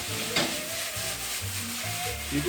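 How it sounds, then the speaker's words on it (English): Rice vermicelli noodles tossed into a hot pan for pad Thai, sizzling steadily with rhythmic scraping and stirring sounds, close and fairly loud. "And we're gonna throw these noodles in the pan."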